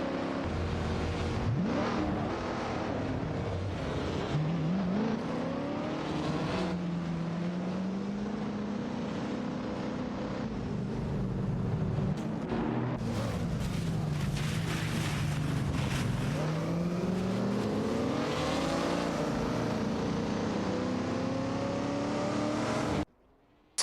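Aston Martin DB5 Vantage and other racing cars in a video game race, engines droning loudly and continuously with rising and falling pitch as they rev and shift, no talking.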